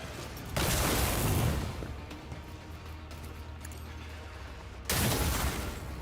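Sustained gunfire bursts from a firefight in Warhammer 40K Rogue Trader, loud volleys at the start and end with quieter rattling combat noise between, no talk.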